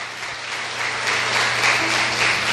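Church congregation clapping together in praise, a dense, steady wash of applause that swells slightly toward the end, with no voice over it.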